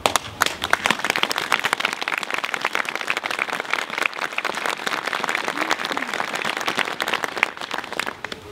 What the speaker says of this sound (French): Au travers de ces applaudissements